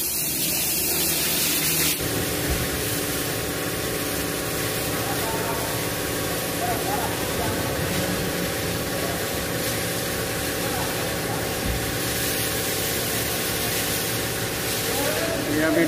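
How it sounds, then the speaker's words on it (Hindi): Water spray hisses loudly and steadily over a Hyundai Accent car engine during a wash, a continuous close rush with an engine-like hum beneath. "अभी ये इंजन को धो रहे हैं जी, इंजन को अच्छी तरह धोएंगे।"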